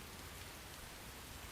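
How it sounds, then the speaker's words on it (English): Steady rain falls in the video game Crisis Core Remastered, a soft, even hiss of droplets that stays constant and fairly quiet throughout, with no voices. "So, it starts raining."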